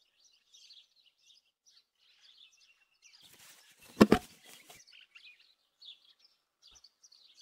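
Birds chirping in the video game Martha is Dead: faint, scattered high tweets continue throughout, interrupted midway by a louder burst of other game sound.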